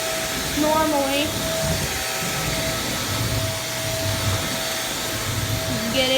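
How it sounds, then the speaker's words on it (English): A Shark Navigator vacuum cleaner runs steadily on a hard floor with the brush roll off, a close continuous motor whine with faint shifts as it moves, and a voice speaks briefly over it. "then you just vacuum on hard floor normally"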